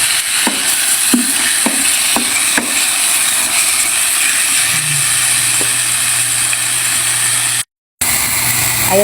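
Bagoong shrimp paste and chili sautéing in hot oil in a pan, giving a steady close sizzle with occasional clicks and scrapes of a stirring utensil, then a brief cut near the end.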